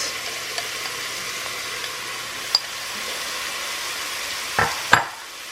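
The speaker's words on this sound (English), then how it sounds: "I'm going to add the onions and cook with the sausage until translucent." Onions and Italian sausage fry in a pot over medium heat, giving a steady close sizzle with a few soft stirring clicks and scrapes and no talking.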